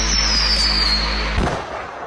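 Fireworks going off outdoors, heard as a sustained rushing crackle with a whistling streak early on and a single sharper pop or thump partway through, fairly loud.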